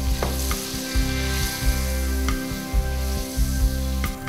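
Butter and white wine sizzle hard in a pan with veal juices for a saltimbocca sauce, a constant close hiss with a low hum beneath and a few clinks and scrapes at intervals.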